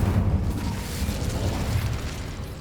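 The Incendio fire spell is cast in the Hogwarts Legacy video game, giving a dense roaring burst of flame that stays loud and sustained throughout.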